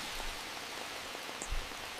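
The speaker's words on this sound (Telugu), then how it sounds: "వర్షం ఫుల్ గా పడుతుంది." Heavy rain pours steadily on a road near Vijayawada, India, a dense, constant hiss with scattered drop impacts, fairly loud and close, with no voices.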